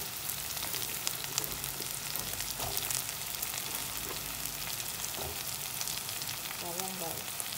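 Vegetables and taro hiss in a hot pan while cooking Ilocano pakbet, with steady close sizzling and occasional stirring scrapes throughout.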